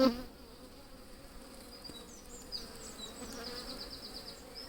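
A steady, faint hum of many bees buzzing together in an open Layens hive, with a few individual insects droning closer and passing by.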